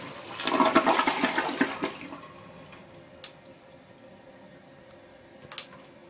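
Cimarron toilet flushing tortilla chips, a loud, close rushing flush for about two seconds that fades into trickling water and a few faint clicks.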